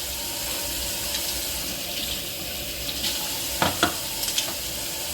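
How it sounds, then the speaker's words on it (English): Warm water runs steadily from a tap as makeup brush bristles are wetted, a continuous hiss with a few brief splashes and drips near the end. "you just have the water on warm while you just wet the bristles a little bit"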